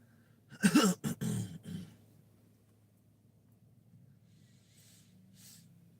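A single deep conscious breath during guided belly breathing, drawn in through the nose and pushed out through the mouth: a close, forceful airy rush lasting about a second, then quiet room tone.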